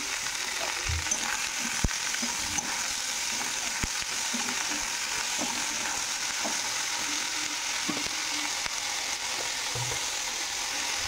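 Spices tempering in hot oil in a heated wok (kadai) give a steady, loud sizzle throughout, with a few faint clicks of a utensil scattered through it and no talking.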